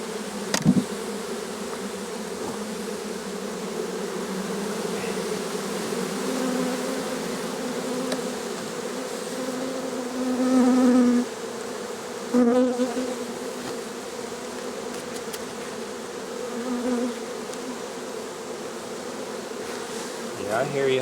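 A steady, dense drone of many bees buzzing around a hive box, close by and continuous throughout, with occasional louder passes of individual insects.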